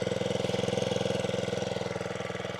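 A 4-stroke post hole digger engine idles with a steady, rapid chugging pulse, loud and close, warming up for the 300mm auger with no talking over it.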